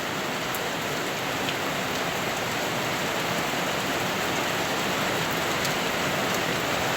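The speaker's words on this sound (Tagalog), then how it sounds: "Ulan lang talaga." Heavy rain pours steadily in a dense, even hiss, with no pauses or voices, filling the whole scene.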